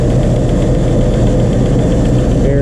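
A 1997 Land Rover Defender V8 runs after an engine overhaul, a loud, steady, low idle rumble with constant vibration close by, with no talking over it.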